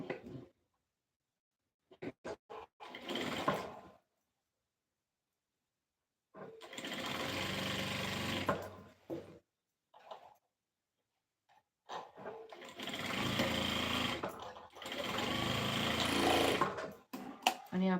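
A sewing machine stitches a strip along a blouse neckline in three bursts: one short, then two longer runs of steady whirring. The machine sounds close, with quiet pauses and a few handling noises between runs.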